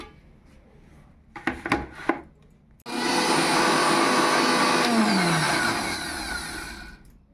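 An electric wet grinder grinds soaked urad (biuli) dal into a smooth paste, its steady loud whirring motor roaring alone for several seconds and slowly tapering at the end, after a few short clattering knocks.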